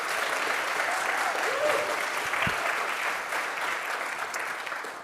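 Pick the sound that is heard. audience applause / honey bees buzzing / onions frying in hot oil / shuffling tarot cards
audience applause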